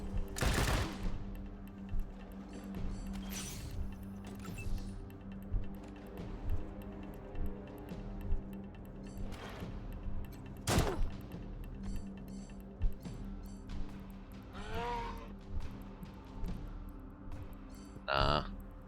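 Turn-based combat in Wasteland 3 erupts in gunfire, sharp bursts of automatic fire and single loud shots spaced several seconds apart, with clicking interface ticks and game ambience between them.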